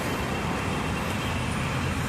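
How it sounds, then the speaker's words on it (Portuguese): Steady city traffic, a continuous wash of passing cars and heavier vehicles rumbling by at moderate distance, with no one speaking. "o som dos carros e a cidade em si"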